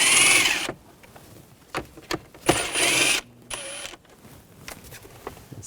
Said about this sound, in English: Take these screws out, use a 7mm socket.